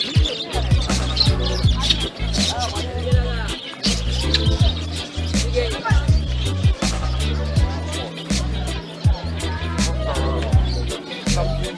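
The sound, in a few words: birds chirping at a pet market in Kolkata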